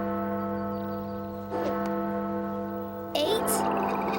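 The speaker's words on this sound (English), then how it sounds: "Is that the town clock? Since when does it have a bell?" A cartoon town clock bell rings out in a steady, sustained tone with strong ringing overtones, a second strike arriving around the three-second mark, with no talking over it.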